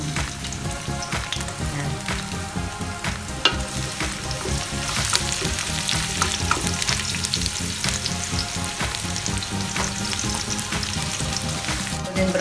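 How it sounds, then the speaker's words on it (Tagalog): Garlic sautéing in a pan for bopis gives a steady, close sizzle and crackle of hot oil that runs unbroken throughout, with occasional stirring scrapes. "Gigisa na po natin ang ating bawang."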